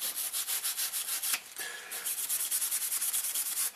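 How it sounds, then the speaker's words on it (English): Rapid back-and-forth scrubbing scrapes old silicone sealant off a differential cover's mating surface, a steady rhythmic rasp repeated many times with one brief pause, close and fairly quiet. "basically want to clean off all of the silicone"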